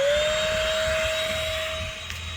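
A vacuum cleaner powered through a pure sine wave inverter hums steadily with a strong motor whine and broad airflow hiss, loud and close, alone with no voices.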